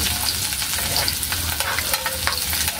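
Onions frying in hot oil for pinakbet, a dense steady sizzle with light scraping from stirring, close and continuous with no talk.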